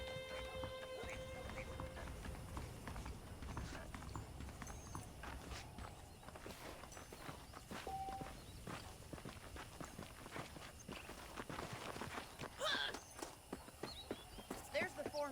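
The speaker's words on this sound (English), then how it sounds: "The horses are saddled up over here." Horse hooves in Red Dead Redemption clip-clop at a steady walking pace under a continuous low rumble, with a few sharp clicks near the end.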